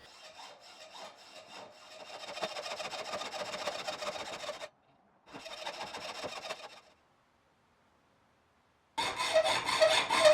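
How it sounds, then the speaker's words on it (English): Hacksaw cutting metal stock while shaping a homemade knife with hand tools, rapid rasping back-and-forth strokes in three bursts separated by pauses, close and fairly quiet. "More hacksaw."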